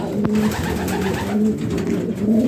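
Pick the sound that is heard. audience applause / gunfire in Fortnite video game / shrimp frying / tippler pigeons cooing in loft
tippler pigeons cooing in loft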